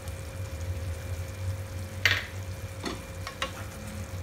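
Mustard paneer (cottage cheese) curry simmers in a pan with a soft, steady sizzle, punctuated by a few brief stirring scrapes near the middle and end; no one speaks.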